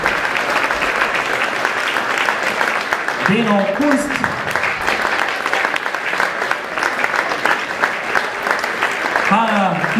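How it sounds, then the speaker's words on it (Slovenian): An audience at a sports awards ceremony applauds athletes from a kayak and canoe club with loud, continuous clapping, and an announcer reads names over it. "Tako da dajmo velik aplavz"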